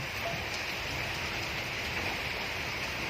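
Steady rain falls outdoors at a Thai fishing spot, making a continuous even broadband hiss and patter with no breaks, moderately quiet and with no voices.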